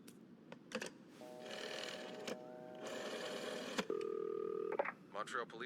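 A hotel telephone is dialed in the This Bed We Made game: a series of close, steady electronic tones and beeps with brief clicks, over soft background noise.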